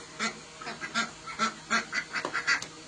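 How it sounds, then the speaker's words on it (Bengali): Ducks and chickens being chased off around a home yard, with a rapid series of close, loud honking quacks and squawks in irregular bursts and no talking. "হাঁস মুরগি এসছে, ওইগুলোকে তাড়াচ্ছে।"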